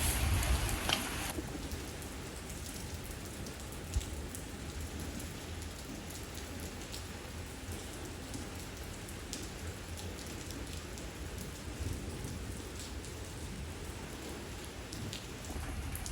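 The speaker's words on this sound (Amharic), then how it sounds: "ዝናብ እየዘነበ ነው።" Rain falls steadily in a constant, close hiss with scattered drips and a sharper burst at the start, heard alone without talk.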